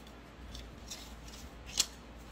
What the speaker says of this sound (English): So what I'm gonna do first is cut down the fabric